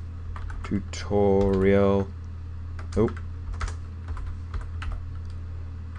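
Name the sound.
typing on a computer keyboard into a notepad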